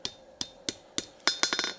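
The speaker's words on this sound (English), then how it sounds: "I like hammering from this side to eliminate hammer blows on the other side, on the top side." Hammer blows forge a steel skillet, a series of sharp ringing metallic strikes, first spaced evenly and then coming faster in a quick cluster near the end.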